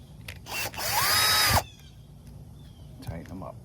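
Power drill driving two screws into a Murray Select MS 2560 carburetor part, a short whirring burst of about a second with pitch rising and falling, then light handling clicks afterward.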